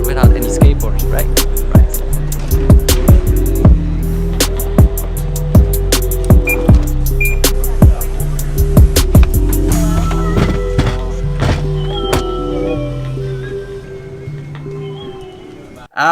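An Evolve Carbon GTX electric skateboard rolls through an airport, its steady wheel roar and drive hum running throughout, with repeated sharp clacks from floor joints at irregular intervals.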